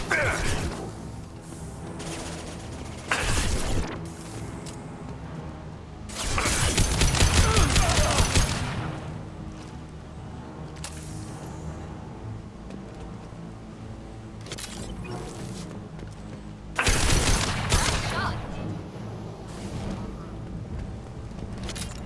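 Gunfire in the video game Mass Effect 2: loud bursts of shooting in three main volleys, with scattered mechanical clicks and whooshes between them.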